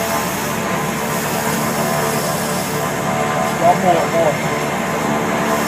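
Beechcraft King Air turboprop engine running up under power lever, a steady broad roar throughout with a slight surge near the end, while a person speaks briefly over it.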